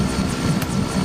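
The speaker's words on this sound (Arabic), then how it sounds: "انثرمت بالمروحة مع الطيارة." Airplane propeller in the Henry Stickmin video game, a steady loud droning engine hum with no breaks.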